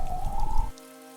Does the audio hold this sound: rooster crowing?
no